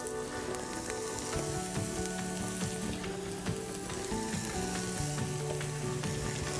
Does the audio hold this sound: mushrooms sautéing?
yes